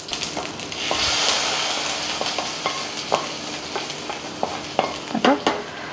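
Peel goes into a thoran stir-fry in a hot pan, where it sizzles steadily under repeated scraping and tapping of a stirring spoon, close and loud.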